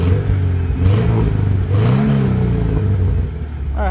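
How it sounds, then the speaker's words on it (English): A Subaru Impreza GC8's exhaust revs up and falls back in a few quick blips, a fairly subtle, throaty note heard up close with no talking. "I had to get one more sound clip of the exhaust"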